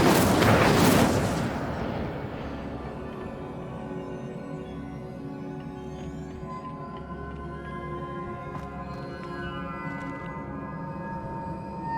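A fiery burst from the Incendio spell in Hogwarts Legacy erupts loudly for about two seconds, then dies into a long low crackling, rumbling tail under ambient game music.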